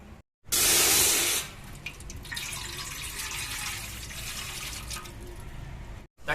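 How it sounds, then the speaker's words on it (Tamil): A pot of water pours into a cooking vessel for a tomato sauce, a short loud splashing gush followed by a lighter, steady trickle and a few drips. "ஒரு சொம்பு தண்ணி ஊத்திக்கலாம்."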